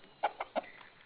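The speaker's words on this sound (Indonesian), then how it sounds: "Dan ada ayam." Three short, close clucks from a chicken, evenly spaced and fairly faint, over a quiet background.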